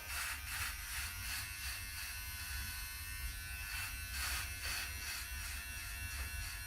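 A GLAKER cordless beard trimmer buzzes steadily close up during a shave, with soft rhythmic swells as it passes over the beard, fairly quiet and without talk.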